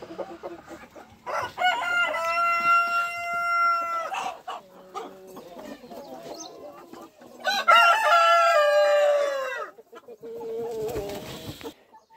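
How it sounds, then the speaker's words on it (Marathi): A Black Australorp rooster on a poultry farm crows twice, loud and close, each crow long and drawn out, with clucking hens and light rustling between the calls. "तुम्ही पाहू शकता आपल्याकडे हा ब्लॅक ॲस्ट्रोलाब जातीचा कोंबडा आहे"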